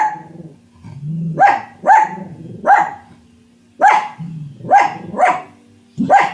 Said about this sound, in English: Why are you barking now?